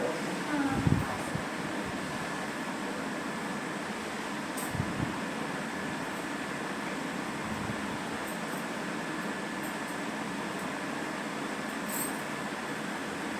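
Electric ceiling fan running in a home, giving a steady, even whooshing hum that fills the whole stretch, with faint voices and small knocks in the background.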